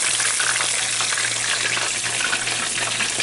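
Battered cod fillets frying in hot oil, a loud, dense, continuous sizzle with bubbling that fills the whole stretch, close up and unbroken, with no talking over it.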